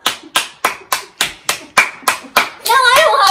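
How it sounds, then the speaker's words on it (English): Slow, evenly spaced hand claps, about nine sharp strikes in a row from a small group of people, followed by loud excited voices and squeals at the end. "Can we get a round of applause for this girl?"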